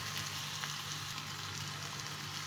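Ginger garlic and green chilli frying in a pan of oil, a soft steady sizzle with a faint crackle, close and unbroken, with no talking.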